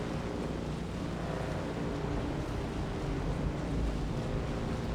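A vehicle engine runs in Dune Awakening as a continuous rough, windy rumble, steady and fairly loud, with no talk over it.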